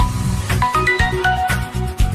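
A phone rings with a repeating electronic ringtone melody, loud and close, pulsing in a steady rhythm with no voices over it.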